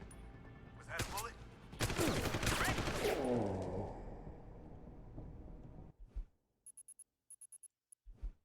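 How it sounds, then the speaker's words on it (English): A gunshot burst in Deus Ex: Human Revolution, a loud volley of sharp game gunfire in the first few seconds that fades into a softer tail, followed by near silence and a few small clicks. "Was that a bullet?"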